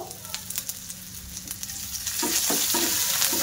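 Ginger paste and chopped garlic fry in hot oil in a pan, a steady close sizzle with a run of scraping stirs that grows denser and louder toward the end.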